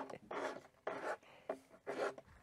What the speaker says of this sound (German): wenn man hier so eine Phase da dran feilt, dann kann man die besser ineinander stecken